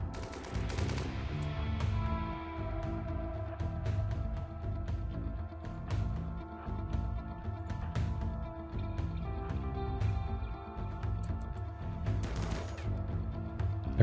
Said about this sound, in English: We're taking shots at them, we're not hitting them.